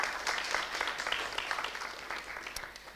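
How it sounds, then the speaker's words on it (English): Audience applause at a presidential debate event at the University of Latvia, a steady wash of many hands clapping through the clip, moderate in level and spread across the room. "please, applause."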